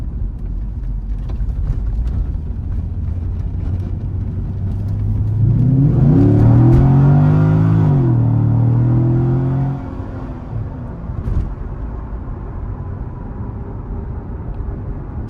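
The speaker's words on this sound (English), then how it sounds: "I'm going to give a brief wide open throttle pull just to show you the state of health of the engine and transmission." A Chevrolet Corvette engine and transmission pulled at wide open throttle, the revs climbing loudly over a steady idle before easing back down to a settled rumble, close and with no talking.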